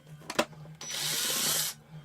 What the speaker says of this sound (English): now what we're going to do is we're going to drill this second one